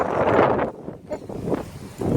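Wind gusting outdoors on a small hill during a dog walk, a loud broadband rush that swells and fades in irregular gusts against the microphone, with no one speaking.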